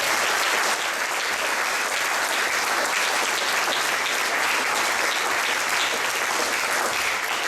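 Audience applause at the Scott Joplin International Ragtime Festival awards honoring Fred Hoeptner and Mike & Penny Schwarz, a loud, dense, unbroken wash of clapping from a full crowd filling the whole stretch.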